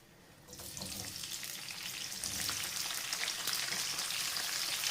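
Chopped onions drop into half a cup of hot oil in a pan and start sautéing for an egg and spinach dish, a steady close sizzle that swells louder and stays strong throughout.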